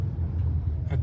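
A car drives through South West London, its engine a steady low rumble of road noise throughout, with a brief brighter swell of passing sound near the end.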